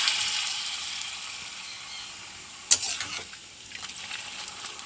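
Papadam frying in hot coconut oil in a pan, a steady close hiss and bubbling sizzle with one sharp clink of utensil against the pan partway through.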